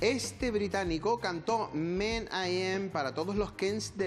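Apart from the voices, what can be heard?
None of the usual background noises is heard.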